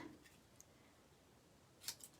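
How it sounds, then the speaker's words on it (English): A pair of scissors cuts a small pennant shape from paper scraps, heard as a couple of faint, quick snips near the end of an otherwise quiet room. "do a little pennant shape with scissors"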